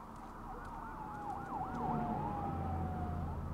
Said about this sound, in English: there's a shit ton of police cars